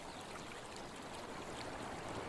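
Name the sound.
running water at a beaver dam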